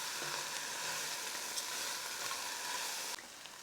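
Bacon and butter beans sizzling steadily in a hot pan while being stirred together, a dense, even frying hiss with faint scraping that drops off abruptly near the end.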